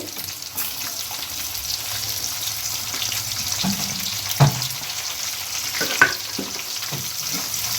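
Chopped onions, added after green chillies for onion pakoda, fry in a pan with a steady, moderate sizzle, punctuated by a few sharp clinks and taps, with no talking.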